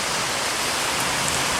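Heavy rain pouring down outdoors, a steady, dense hiss that holds at one level throughout with no voices.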